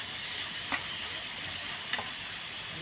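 Fatty beef being stir-fried in a pan gives off a steady, close sizzle, with two faint clinks from the utensil against the pan.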